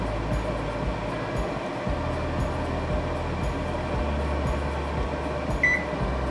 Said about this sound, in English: So I plug it in and listen for the fan